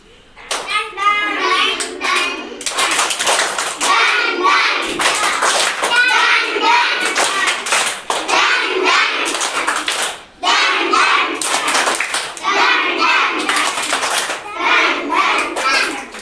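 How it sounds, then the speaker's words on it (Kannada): Schoolchildren in a government classroom clap in loud, rapid bursts, rhythmic volleys broken by short pauses, with children's voices and a teacher speaking between rounds. "ಚಪ್ಪಾಳೆಯನ್ನ ಮಾಡೋಣ"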